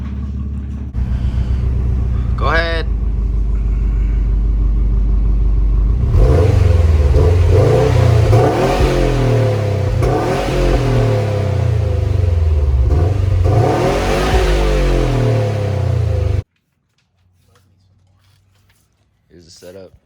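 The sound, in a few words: Subaru STI 2018 starting and revving with stock exhaust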